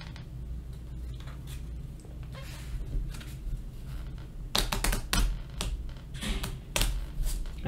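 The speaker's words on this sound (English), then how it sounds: "And we gotta shuffle these up." Board game cards from Pandemic: Hot Zone – North America being shuffled by hand, a close series of quick riffling clicks and taps that build into denser bursts toward the end, with no talking.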